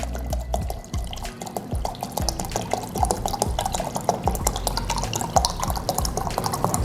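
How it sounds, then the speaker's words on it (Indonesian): Water pours into the tank of a water dispenser with continuous splashing and dripping, close and steady throughout. "isi dulu nih dengan air"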